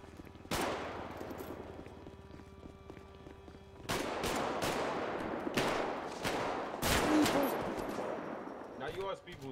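A video game shootout opens with a single shot, then breaks into bursts of automatic gunfire and sharp single cracks. The firing is fairly distant and mixed with background game noise, and a person talks faintly underneath.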